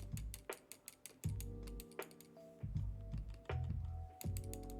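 Fingers type on a mechanical keyboard whose spacebar rattles, giving bursts of sharp, close clicks with heavier, rattly thumps from the spacebar between quiet pauses.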